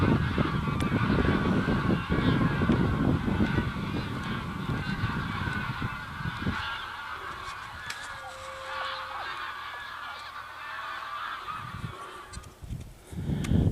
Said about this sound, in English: So lots of geese.